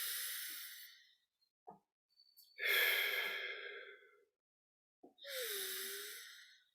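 Slow, audible breaths drawn in and let out during a guided breathing exercise, each a long airy whoosh separated by brief pauses of silence.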